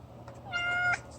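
A cat meows once, a clear rising-and-falling cry close by, against a quiet low background hum.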